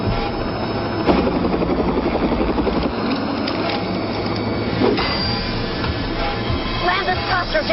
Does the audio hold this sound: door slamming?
no